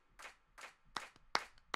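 Sampled claps in a music beat for a shout loop, sounding as a run of sharp hand-clap hits in a steady pattern, growing brighter and louder toward the end, with no talking.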